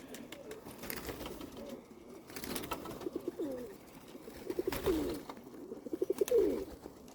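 Pigeons at a home loft cooing softly in short repeated bursts, with brief wing flutters as birds settle from above in small circles; fairly close, over a light outdoor background.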